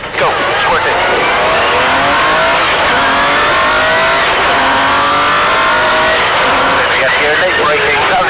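An MG Metro 6R4 rally car accelerates hard, its loud engine roaring continuously and climbing through revs close by, while a voice gives driving instructions over the noise.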